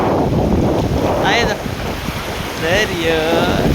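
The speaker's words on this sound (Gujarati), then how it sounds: "આપણે દરિયામાં પહોંચી ગયા અને અવિયાંશભાઈને તો ખૂબ જ નાવું હતું" Wind buffets the microphone over steady surf at the sea shore at Koliyak during a new-moon bathing visit, with faint, brief voices or calls breaking through the roar.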